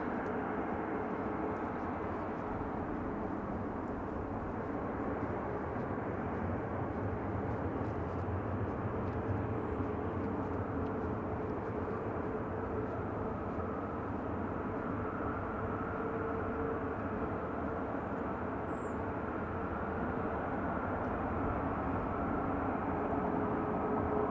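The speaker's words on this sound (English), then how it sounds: "Just gone past there is the Lufthansa Airbus A319-100 coming from Frankfurt" A Lufthansa Airbus A319-100 arriving from Frankfurt passes as a steady, broad jet roar that holds at an even level throughout, distant rather than close, with no voices over it.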